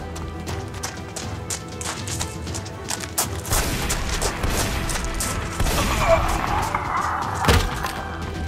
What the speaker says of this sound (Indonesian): Baku tembak pun akhirnya terjadi.